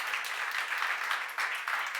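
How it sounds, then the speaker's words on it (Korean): Audience applause fills a church seminar hall, a steady dense patter of many hands clapping at moderate volume throughout, with slight swells and no break. "박수를 하나 주세요."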